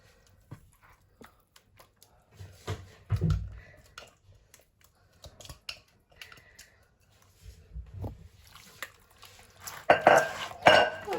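Chicken wings being mixed by hand into a chermoula marinade in a bowl, with scattered clinks, taps and wet shuffling, sparse at first and then busier and louder toward the end.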